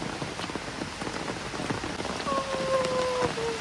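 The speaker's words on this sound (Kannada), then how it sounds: "ಮಳೆ ಬೇರೆ ಬರ್ತಾ ಇದೆ" Steady rain pattering on surfaces at a resort in Kerala, a dense continuous hiss with scattered drops, and a faint tonal whine briefly rising over it toward the end.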